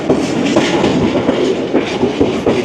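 The Sir Syed Express passenger train rumbles loudly over the Jhelum river bridge, with steady rolling noise and rhythmic clickety-clack wheel beats, heard from on board with no talking.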